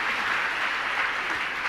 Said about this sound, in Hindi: इसलिए एक बार और जोरदार तालियां